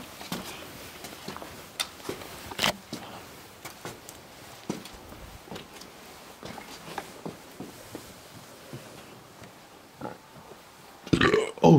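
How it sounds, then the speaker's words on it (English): A single throaty burp near the end, loud and close, following faint scattered footsteps and shuffling inside an abandoned convent building. "I had to burp"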